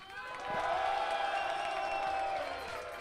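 Audience clapping and cheering for a DJ at a DJ battle final, a broad crowd roar that swells after half a second and holds steady with scattered whoops.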